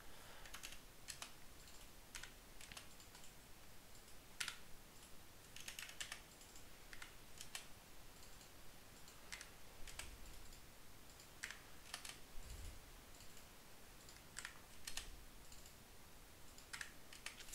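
Steady, quiet keyboard typing while entering data into a spreadsheet, with scattered sharp key clicks and occasional mouse clicks spread over a long stretch, close-miked and without speech.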